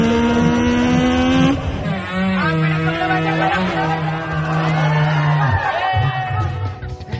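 A man from Ilocos Norte mimics revving car and motorcycle engines with his voice, producing steady buzzing engine tones that rise and fall in pitch like accelerating sports cars, loud and close throughout.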